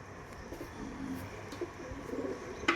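A pigeon at a pigeon club coos softly while being stamped, low rolling coos mixed with faint background noise and a brief sharp knock near the end.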